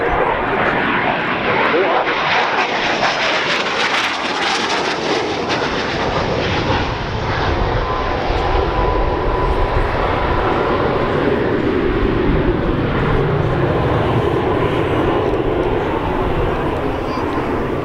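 A Spanish Navy AV-8B Harrier jet flies at the Farnborough International Airshow, its loud, continuous roar filling the whole stretch, with a voice faintly beneath it.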